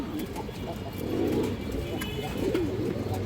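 A male pigeon coos in low, throaty rolling phrases that swell and repeat, close by over a faint background hum.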